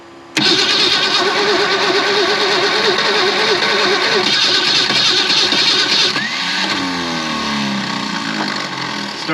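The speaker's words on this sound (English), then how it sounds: "Starter sounds beautiful." A starter motor cranks an old Ford Falcon engine loudly and steadily for several seconds, then the engine sputters and rumbles as it catches.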